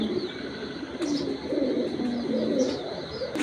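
Racing pigeons coo in a low, soft, repeated rolling call, several phrases close by over a faint background hum, with no one talking.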